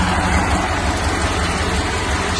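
A 1954 Ford F-100 pickup with an Oldsmobile engine runs steadily, a loud, close, continuous low rumble with a fast pulsing throb.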